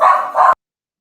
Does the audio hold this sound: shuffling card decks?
no